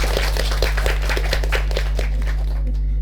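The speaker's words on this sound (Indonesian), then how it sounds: "Kita tepuk tangan dulu." Students from a senior high school class in Kupang clap their hands together indoors, a sparse scattering of sharp claps over a steady low hum that fades out by the end.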